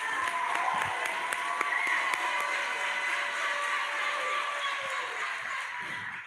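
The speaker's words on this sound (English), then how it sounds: "Let's give them one more round of applause." A school audience at a JCA awards presentation applauds the high school and junior high art award winners with steady, dense crowd clapping, a few sharper individual claps standing out near the front and faint murmuring underneath.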